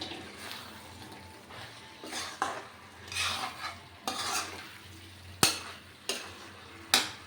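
Jackfruit pieces, boiled with a little turmeric, are stirred and fried in a pan, with irregular scraping strokes of a spoon against the metal over a soft, steady sizzle and no voices.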